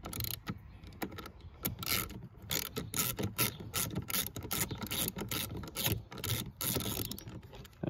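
A T25 Torx tool undoes a bolt on the wing of a Mini F56, producing a close, quick run of sharp ratcheting clicks in uneven bursts against a quiet background.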